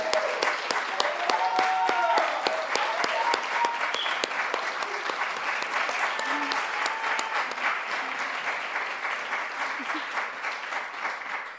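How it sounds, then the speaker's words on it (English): A crowd at a community gathering applauds steadily from start to finish, dense even clapping with a few scattered voices, gradually thinning toward the end. "I really want to hear a round of applause for John."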